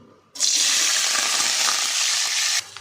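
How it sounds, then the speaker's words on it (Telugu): Chopped onion and green chillies hit hot oil in a pan, setting off a sudden loud, bright hiss that holds steady and close for about two seconds before cutting off, with no voices. "ఉల్లిపాయ అలాగే పచ్చిమిర్చి వేస్తున్నా."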